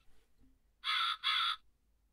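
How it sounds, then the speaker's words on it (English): A sound-machine effect for a short radio murder play gives a crow's caw twice in quick succession, loud and close, against near silence. "that was actually a crow"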